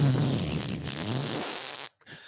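A giant booming fart rumbles loud and close for nearly two seconds, then breaks off into a short silence and a brief trailing sputter.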